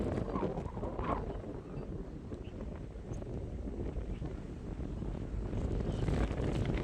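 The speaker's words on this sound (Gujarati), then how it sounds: "જો મિત્રો તમને બતાવું બહુ પવન છે" Strong wind sweeps across an open farm field, a steady, roaring rush that buffets close by without pause and swells slightly louder near the end.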